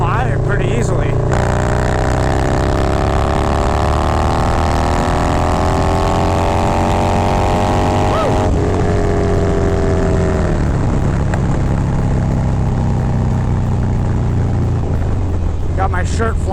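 Harley-Davidson Milwaukee 8 V-twin with an aggressive cam, pulling hard in fourth gear at highway speed, its rising engine drone loud and steady under heavy wind rush, with a brief gear-change dip partway through.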